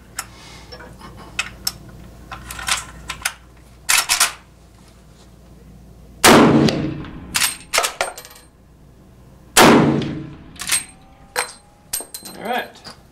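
Cast gas check bullets are fired through a chronograph, a few sharp loud gunshot reports spaced seconds apart, each with a quick decaying tail, between lighter clicks and handling noises.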